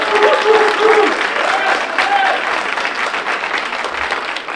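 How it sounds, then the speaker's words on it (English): An audience at a community breakfast bursts into steady, full applause, the dense clapping holding strong throughout, with a few voices and whoops rising above it at the start. "If you're proud of what Red Sullivan and his wife has done with this organization, clap your hands."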